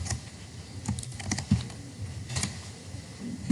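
Someone types C code on a computer keyboard in a steady run of close, crisp keystrokes with small irregular bursts and no talking over them.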